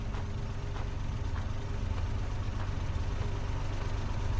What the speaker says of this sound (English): I can hear a running car